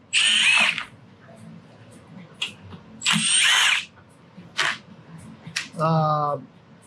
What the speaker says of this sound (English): So I'm gonna take a 30 Torx. I'm gonna start taking all the screws out.